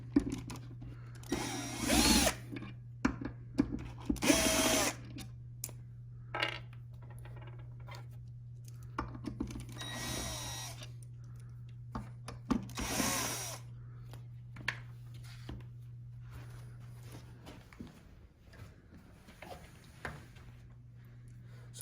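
A power tool removing bolts from a back-height-adjustable seat ratchet on an office chair, with several short whirring bursts separated by pauses and a steady low hum throughout.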